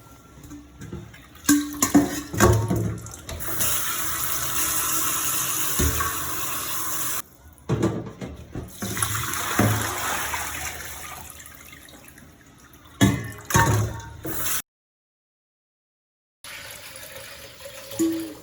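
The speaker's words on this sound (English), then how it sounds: "Wash the shredded potatoes at least twice to remove the starch." Tap water runs into a kitchen sink while shredded potatoes are rinsed to wash off starch for a Chinese stir-fry, a steady splashing with brief breaks and handling clatter, then a short silence before the flow resumes more softly.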